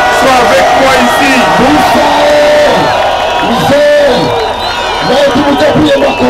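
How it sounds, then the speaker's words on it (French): A rally crowd in Goma cheers, whoops and shouts in waves, with loud bellows and rising calls, some of them chant-like, sweeping through a dense, close, continuous roar of voices. "Applaudissez pour lui."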